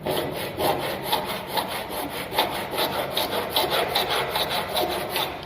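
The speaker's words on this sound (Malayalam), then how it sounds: "ഇനി നമുക്കിത് ഫയൽ ചെയ്യാനായിട്ട് ഫ്ലാറ്റ് ഫയൽ എടുത്തു." A flat file works a freshly cut edge with quick, even, rasping strokes, a steady scratchy rhythm of several passes per second, close and alone.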